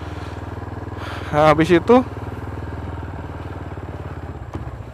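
A motorcycle engine runs steadily close by with a low, even rumble, heard under someone speaking briefly in the middle.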